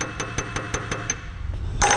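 Hammer taps on a part being knocked into place while reassembling a British side-by-side sidelock shotgun, a run of six sharp, evenly spaced knocks, followed by a brighter metallic clink at the end.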